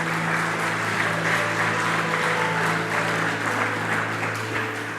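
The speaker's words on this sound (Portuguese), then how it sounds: "aplauda bem forte o nome de Jesus." A church congregation applauds loudly and steadily for several seconds, dense sustained clapping filling the room under a low steady hum, with no voice on top.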